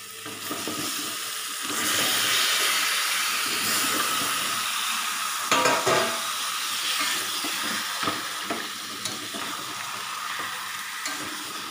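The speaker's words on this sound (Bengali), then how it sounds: "এবার সবজিগুলো সব ঢেলে দেবো।" Vegetables for a Malabar spinach chorchori stir-fried in a pan, a broad continuous sizzle with steady hissing and occasional scraping knocks of the spatula, close and fairly loud.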